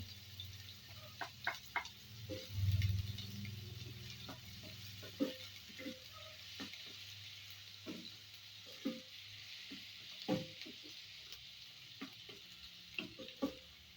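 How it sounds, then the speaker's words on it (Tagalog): Onion sizzles softly in an oiled pan for chicken caldereta, a steady low frying hiss broken by frequent small clicks and taps of a spoon stirring, with no talking. "At ngayon naman ay magigisa tayo ng sibuyas at saka bawang. Ayan, inuna ko na yung onion."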